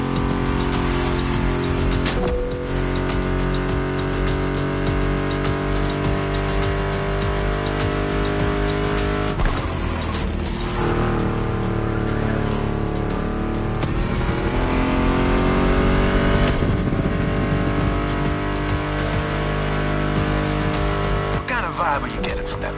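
A Mustang GT muscle car roars in The Crew Motorsport racing game, its engine droning loud and steady throughout with revving shifts and tire squeals, and a voice talks intermittently over it.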